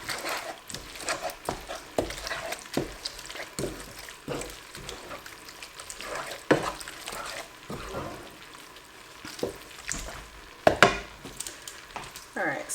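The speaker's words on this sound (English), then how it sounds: "I'm going to cover the pasta that I just put in with some olive oil and give that a good mix" Pasta coated in olive oil is mixed in a pan, producing repeated soft scraping, wet stirring and utensil clinks in an uneven rhythm, close and moderately loud.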